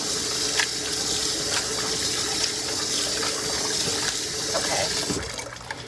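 Tap water gushing steadily into a container to rinse dill pickle relish, a loud, continuous splashing fill that tapers slightly at the very end.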